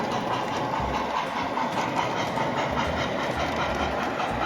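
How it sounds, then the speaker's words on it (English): A model army train runs on a layout with a continuous rolling rumble and faint rhythmic clicking of wheels on track, steady and close with no talking. "So the Army train is right here now"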